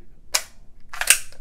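Magazine ejecting from an HK USP 45 Compact pistol with a heavy base plate, two short sharp metallic clacks close up, the second a little longer and busier.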